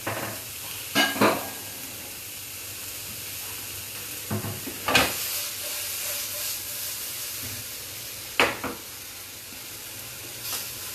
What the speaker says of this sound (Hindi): हमें इस सब्जियों को पूरा पकाना नहीं है, पर हल्का सा सीजनिंग के लिए हमने इसको टॉप किया है